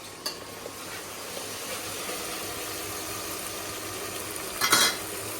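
Ginger, chili and garlic paste sizzles softly in a pan as it is stirred, a steady low hiss with a brief louder scrape-and-sizzle burst near the end.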